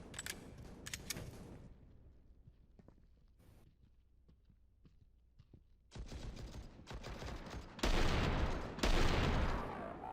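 Gunfire in the shooter game CS:GO, with scattered shots and bursts early on, then dense, loud rapid fire and clattering later, heard without talk.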